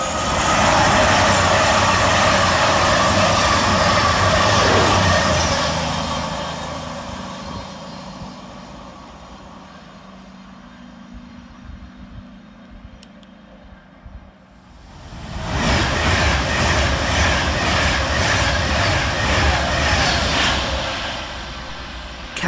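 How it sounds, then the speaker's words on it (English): Two Cross Country trains, units 220026 and 221125 coupled, running fast through Berkswell station on a Manchester Piccadilly to Reading service; a loud roaring pass at the start fades to a distant rumble, then another loud surge of rail noise returns near the end. "First fast train down sees 220026 and 221125 pass through, working 1 Oscar 14 for cross country from Manchester Piccadilly to"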